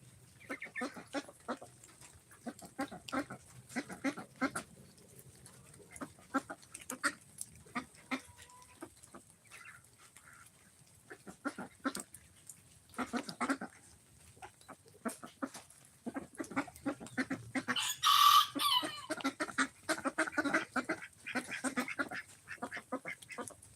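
Ducks and ducklings at a farm quack and peep in scattered bursts while they eat, close by and fairly faint, with busy pecking and rustling between calls and one louder flurry of quacking near the end.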